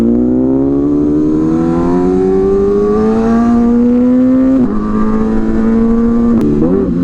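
A hyper naked motorcycle's engine runs at steady high revs while riding, its tone rising gradually as it pulls, then a quick gear change dips the pitch before it climbs again, loud and close with no voices.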